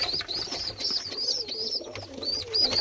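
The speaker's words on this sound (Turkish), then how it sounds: "Onun dışında şurada şekeri malatya paça yavrularımız var." Malatya tumbler pigeon squabs call close by in a loft, a repeated series of soft cooing and squeaky begging notes in a steady rhythm with faint background noise.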